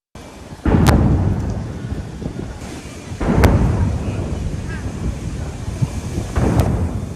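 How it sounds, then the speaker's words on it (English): Ceremonial cannon gun salute of 96 rounds fired across London for Queen Elizabeth II, three heavy booms spaced a few seconds apart, each rolling and echoing long afterward over a windy outdoor background. "The sound of cannon fire echoes across London."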